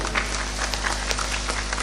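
Members of a crowd at a lively Javanese Islamic religious gathering clap briefly, with scattered, uneven claps over a low steady hum and some background noise.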